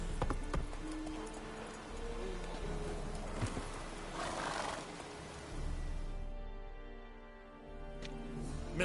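Horse in The Witcher 3 video game clip-clopping at a steady gallop, loud and close, with a brief neigh-like cry midway and music or game ambience underneath.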